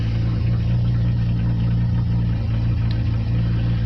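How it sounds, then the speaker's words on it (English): A Nissan Altima SE-R engine with a vacuum leak idles roughly, giving a close, steady low-pitched rumble with slight uneven pulsing and no talk over it. "It's still idling pretty rough"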